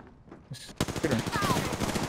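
Apex Legends gunfire starts abruptly after a brief quiet moment, a rapid burst of close, loud automatic shots that continues steadily to the end.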